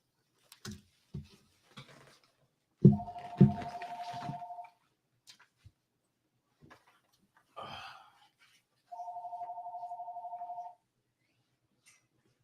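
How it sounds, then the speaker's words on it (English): A telephone rings indoors in two separate bursts of electronic trilling several seconds apart, with scattered thumps and brief breathy noises from someone hunting for it between the rings. "Where's that phone?"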